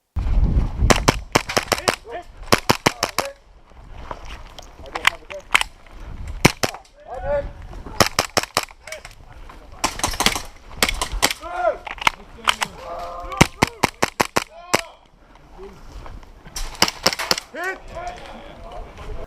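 An airsoft Glock pistol fires on full auto in several rapid bursts of sharp, close cracks, with short pauses and a voice speaking between the strings of shots.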